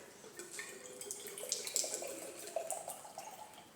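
Liquid solution being poured into a 250 ml flask during a chemistry standardization, a soft steady trickling and splashing that runs close and fairly quiet for several seconds, with no talking.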